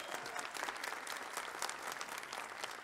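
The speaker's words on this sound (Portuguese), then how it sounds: "Merece palmas" Sustained audience applause from a live viola concert, a dense, even wash of many hands clapping at once that continues steadily for about three seconds with no voices on top.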